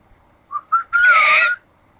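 Australian native birds give a screechy call at close range and loud: two short rising notes, then one long, harsh screech, with no talking.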